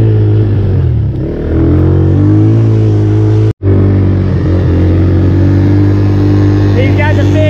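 Small ATV engines of 50 and 90 cc racing on a farm, a loud steady drone close by with brief revving, a short cutout midway, and people shouting over it.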